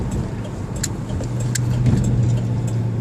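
A 1993 Ford Ranger V6 engine pulls hard under acceleration on a road, with a steady, loud drone that rises slightly in pitch, heard from inside the truck with no talking.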